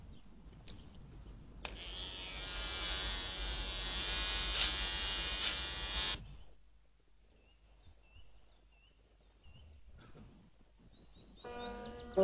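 An electric razor buzzes steadily for about four seconds, close and continuous, then falls silent. Later a few faint chirps and a short buzzing burst follow in an Italian 1993 film scene.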